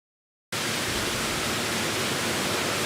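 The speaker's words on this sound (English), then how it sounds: "Millions of early ballots are rolling off the presses and into envelopes at Phoenix's Runbeck Election Services." Ballot printing presses running at Runbeck Election Services in Phoenix produce a steady, loud, hissing industrial roar that starts abruptly after a moment of silence and continues unbroken.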